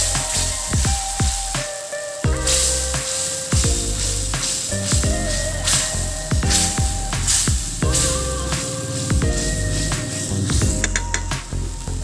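Spices with turmeric frying in a pan for an egg curry without onion, garlic or ginger, a steady close sizzle layered under tonal background music throughout.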